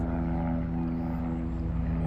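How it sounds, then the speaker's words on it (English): A plane flies low overhead near Heathrow Airport beside the Thames, a loud, steady droning engine roar filling the whole moment. "Okay, there's just a plane."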